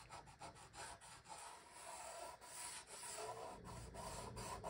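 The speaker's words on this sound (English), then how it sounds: "Or if you see a rust spot, gummy stones are great at getting the rust out." A gummy stone rubs along the steel edge of a snowboard to clear rust, producing faint, close, rhythmic scraping strokes in quick back-and-forth succession.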